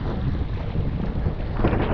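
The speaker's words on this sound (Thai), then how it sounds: "ลมแรง" Strong wind blusters across a reservoir dam at Huai Kho in Thailand, a loud, continuous roaring rumble buffeting the microphone with no speech.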